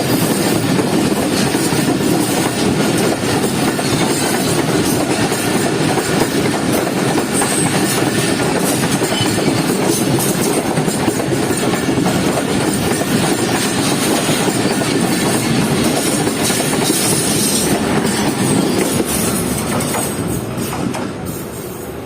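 Jaffer Express rolling on a single line just after the Rahman Baba Express has crossed it, with a loud, steady rumble of wheels and rail clatter that continues unbroken and eases slightly at the end.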